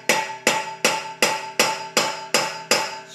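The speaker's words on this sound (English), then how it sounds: "tap on this," A four-way lug wrench hammered onto a lug nut rounded off by its aluminum shell, eight sharp, ringing metallic strikes at a steady pace, loud and close, each one decaying before the next.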